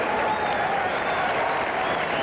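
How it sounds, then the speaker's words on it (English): A Dodger Stadium crowd at Game 1 of the 1978 World Series applauds in a steady, distant wash of clapping and crowd noise that never lets up. "they all own the Dodgers, and they just will not stop applauding"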